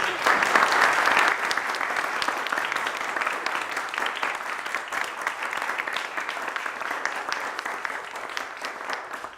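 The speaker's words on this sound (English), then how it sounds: "We should give you a round of applause." Sustained applause from an audience after a talk, strongest in the opening second and then settling into a steady, dense patter of clapping that continues for several seconds.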